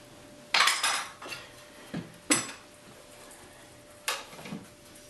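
A spoon stirs a cinnamon and nutmeg spiced mixture in a bowl, giving a few separate scraping clinks against the bowl at irregular intervals, each fairly close and short, with quiet pauses between them.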